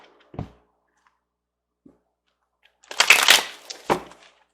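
Oracle cards are shuffled in a brief close flurry of papery riffling near the end, preceded by a couple of soft taps and handling clicks in otherwise quiet surroundings.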